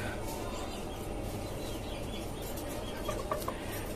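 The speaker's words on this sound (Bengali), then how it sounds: "আর এখানে আমার আরো একটা ফার্মে মোরগ আছে।" Roosters kept on a chicken farm with caged hens, a steady low barn murmur filling the space while faint clucks and a couple of brief calls surface near the end.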